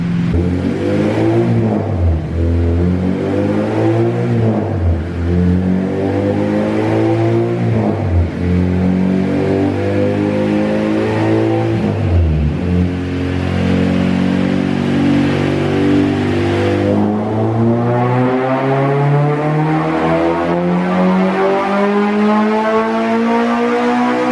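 A K24 engine in an Acura Integra revs hard through repeated dyno pulls, rising and falling in pitch several times before climbing in one long loud sweep, close and dominant with no talking.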